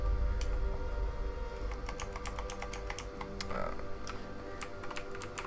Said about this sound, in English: whenever I have to hit a key on my keyboard, you will hear the clicking noise from my mechanical keyboard